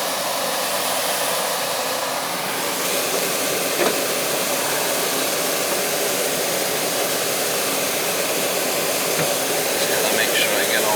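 An air conditioning unit that had parts missing runs with a steady, loud broadband whoosh of fan and airflow that continues without a break, while faint clicks and small handling noises sit underneath.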